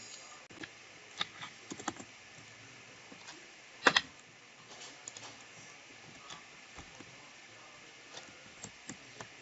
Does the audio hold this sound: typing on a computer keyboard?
yes